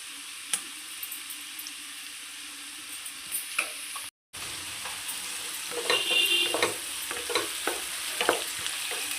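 Ginger garlic paste and onion frying in a pan for guthi vankaya curry, a soft, continuous sizzle with intermittent spatula taps and stirring scrapes, briefly cutting out midway, with no speech.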